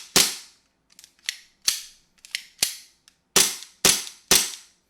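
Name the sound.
airsoft gun desk pop test shot, Black Vanta mid frame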